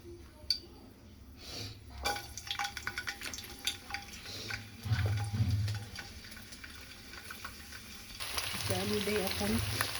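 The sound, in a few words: onion, chilli, garlic and ginger frying in a pan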